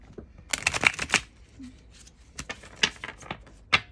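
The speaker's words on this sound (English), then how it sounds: "I'm going to start shuffling." Tarot cards are shuffled by hand at close range, a quick run of crisp riffling snaps followed by scattered softer card slaps and flicks, with no talking.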